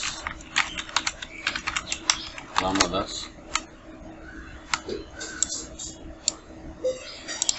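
Someone types on a computer keyboard while designing political graphics: a steady run of close, crisp key clicks with occasional louder taps, and a voice speaks faintly in the background.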